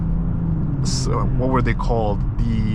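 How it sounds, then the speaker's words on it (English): Engine and piped-in sound of a 2024 BMW X5 xDrive50e heard from inside the cabin, a low steady hum and rumble running continuously beneath someone talking. "Just a little bit of the engine and some amplified sound coming in as well"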